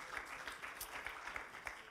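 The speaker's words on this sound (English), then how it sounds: "Why don't we just give him one more hand clap?" Church congregation at a Wednesday night worship service giving a round of hand clapping applause, steady rapid claps from many people at moderate distance, fairly faint.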